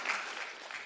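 Audience applause at a Taipei transportation presentation, a brief steady patter of clapping from a crowd, moderately loud and unbroken.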